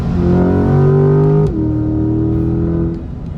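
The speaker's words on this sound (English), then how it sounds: "There's that nice hard edge growl to the car." A sports car engine, a C8 Corvette or McLaren 570S, growls loudly with a hard-edged harmonic revving that rises, drops sharply, then holds steady before easing off, close and with no talking.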